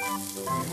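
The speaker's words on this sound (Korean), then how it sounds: "지글지글 구워지는 게 참 맛있어 보이네요." Korean beef grilling at a butcher-shop restaurant, a close, steady crackling sizzle of fat and meat on the hot grill, brief and continuous with no voices.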